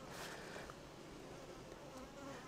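A dense, faint, continuous hum of honeybees crowding over an open hive frame, steady and unbroken throughout.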